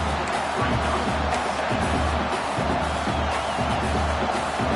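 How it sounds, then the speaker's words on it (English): A college football video game stadium crowd at an Oregon vs Nebraska matchup roars steadily and loudly throughout, a dense unbroken wall of noise with faint cheering. "The roar of the crowd trying to fuel this defense to keep them pinned in their own end."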